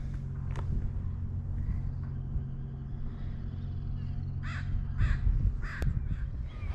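Several hoarse caws from ravens in the distance near Queen Charlotte Sound and Port Hardy, British Columbia, a few spaced calls over a steady low rumble of wind or traffic.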